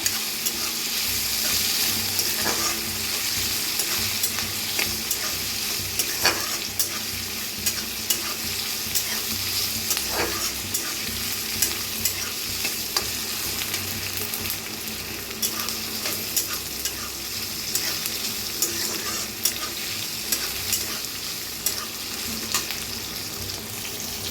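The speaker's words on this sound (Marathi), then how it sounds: "चांगलं भाजून घेऊया कांद्याला।" Chopped onion fries with curry leaves in a hot pan for a potato and cabbage dish, giving a steady, dense sizzle with repeated scraping and stirring strokes throughout, close and continuous with no talking.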